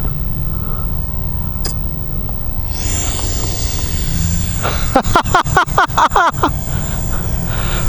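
A 50mm EDF L-39 Albatros radio-controlled model jet comes in to land, a thin ducted-fan whine rising as it passes, followed by a burst of sharp rattling thumps as it bounces on touchdown.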